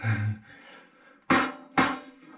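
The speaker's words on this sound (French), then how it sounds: "Avec quelques chocs, votre fourche descend." A mallet or hammer strikes a bicycle fork to knock it down out of the frame, with two sharp, loud knocks about half a second apart following a brief dull thud, close up.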